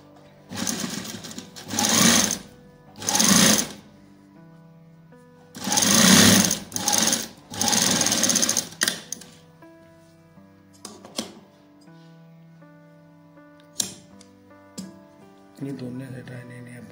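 Sewing machine stitching a langot: several bursts of fast mechanical whirring, each a second or so long, separated by quiet pauses, close and loud, with music playing softly underneath.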